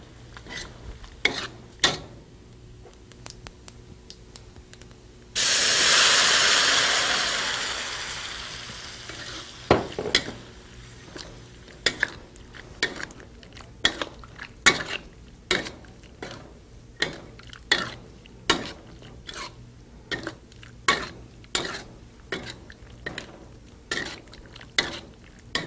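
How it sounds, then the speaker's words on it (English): Marinated beans dropped onto cumin seeds in a hot pan and dry-fried, opening with a loud burst of sizzling that fades, then a steady run of sharp scraping and tapping stir strokes against the pan, with no talk. "we're going to throw our beans that have been marinated into the cumin seeds, and we're going to dry fry it for about 8 or 10 minutes"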